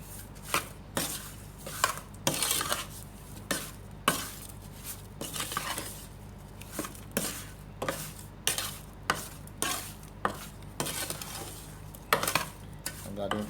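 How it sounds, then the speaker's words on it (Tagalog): A fish bagoong mixture being stirred with salt makes a steady run of close, wet scraping strokes against the container, repeating in an even rhythm with no talk. "Haluin po natin."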